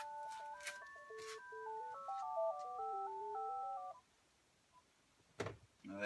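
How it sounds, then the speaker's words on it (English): A mobile phone rings with a melodic electronic ringtone, a stepped tune of beeping notes repeating for a few seconds at low volume, followed by a brief clatter and a short burst of noise nearby. "Now my phone's ringing."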